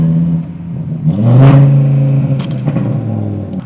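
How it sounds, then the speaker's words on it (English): An Audi RS3 engine revs up sharply as it launches hard, a loud rising roar that peaks and then settles into a steady drone, heard from inside the car. "the car launches!"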